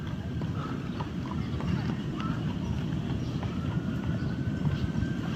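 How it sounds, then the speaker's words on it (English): Horse-drawn carriage in Central Park, New York City, its hooves clip-clopping in a steady rhythm on the road, moderately close amid busy city noise and crowd chatter. "here is a horse and carriage, which you see in Central Park all around"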